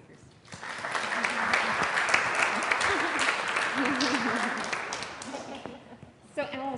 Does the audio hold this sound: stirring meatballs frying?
no